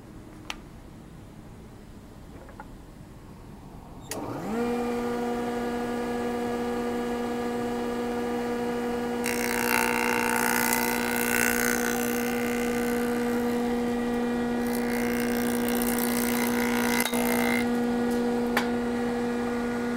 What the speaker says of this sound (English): when we pass this material over the joiner, we should come up with an edge that's square to the face